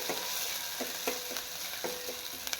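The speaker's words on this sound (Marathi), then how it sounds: "अद्रक लसूणची पेस्ट घालायची आहे" Ginger garlic paste sizzles with cumin seeds in a hot pan over low heat, a dense continuous hiss with soft periodic scrapes of stirring throughout.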